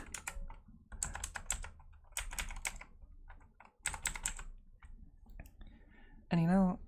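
Fingers type on a computer keyboard in quick, close bursts of crisp clicks separated by short pauses, ending with a brief voice sound.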